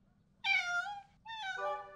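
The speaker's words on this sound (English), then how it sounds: "The cat is stuck on the high shelf." A cat meows twice, close and clear, two drawn-out calls with a short gap between them, over a faint low background hum.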